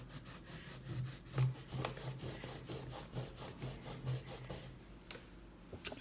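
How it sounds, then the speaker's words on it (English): A wooden trunk is rubbed back with a wet abrasive to distress its paint, producing repeated rhythmic scratchy strokes, fairly quiet and close, with a brief pause near the end. "so you're basically rubbing back off the paint where you want some detail showing through"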